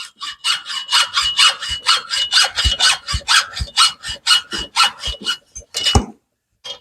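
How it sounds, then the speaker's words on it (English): A hacksaw cuts through an RV extension cord in quick, regular back-and-forth strokes, close and loud, about twenty rhythmic rasping passes ending in a final snap as the cut finishes, with no talking. "Oh, use your hacksaw."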